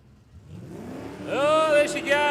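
A big long-roof station wagon and a Camaro launch side by side at a drag strip, Warwick Dragway in Australia, engines rising from a rumble into a loud, climbing roar toward the end, with a commentator talking over it.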